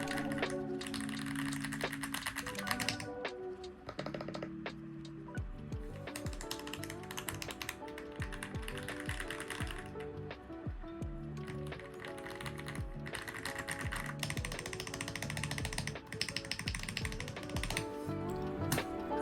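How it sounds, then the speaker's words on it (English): Keycaps and switches pulled and pressed into a mechanical keyboard make dense, continuous clicking, ratcheting and tapping, close and busy, over a steady hum with no voices. "We just have to take off the keycaps, take off the switches, and swap in the new switches and add on the new keycaps."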